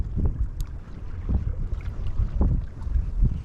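Strong wind gusts across a lagoon shore during inshore fishing, a steady loud roar buffeting the microphone with rumbling low gusts throughout.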